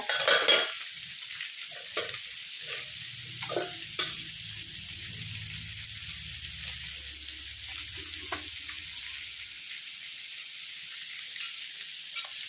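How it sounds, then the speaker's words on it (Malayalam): Nethal fish frying in hot oil, a steady close sizzle and crackle that runs without a break and fades a little toward the end, with no talking. "ഒഴുകമീൻ വറുത്തത്, നെത്തൽ വറുത്തത്."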